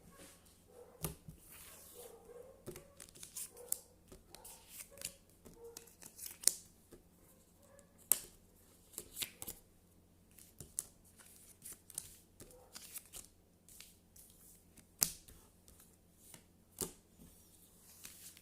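A tarot deck is cut and handled in a quiet room, with soft, scattered card snaps, slaps and rustles at irregular intervals.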